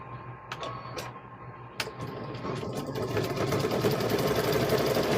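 A sewing machine stitches a quilted handbag, zigzag-stitching rope to the handles, running as a steady mechanical whir that grows louder and denser toward the end, with a few sharp clicks early on.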